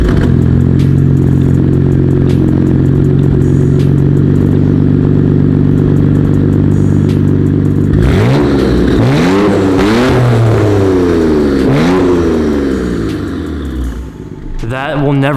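A Nissan Skyline GT-R R32 sports car engine sits at a loud, rumbling idle, then revs hard several times in quick rising and falling bursts before settling again.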